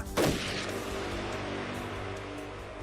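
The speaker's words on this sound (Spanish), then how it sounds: "La explosión golpeó la pared de la torre con una fuerza masiva, destruyendo todo a su alrededor" A bomb blast hits a tower wall: one sharp, heavy boom right at the start, followed by a long rumbling, hissing roar of debris and echo that stays loud and slowly fades.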